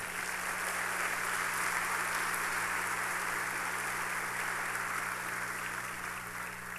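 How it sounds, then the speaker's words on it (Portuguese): Church congregation applauding, a broad continuous wash of clapping sustained for several seconds over a low steady hum, with no voices on top. "Um forte aplauso a Cristo, aleluia."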